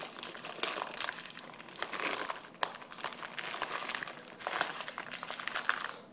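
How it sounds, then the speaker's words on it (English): A plastic bag crinkles in bursts as it is pushed through the cut neck of a plastic bottle to form a makeshift cap, close and fairly quiet, with repeated crackling handling sounds and no speech. "Cut the top of the bag of the M&Ms, or if you have rice, or again any plastic bag, feed it through."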